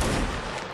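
A musket volley fires in a Napoleonic Wars line battle game, a loud, dense crack of many muskets together that rolls and decays over under a second with no talk.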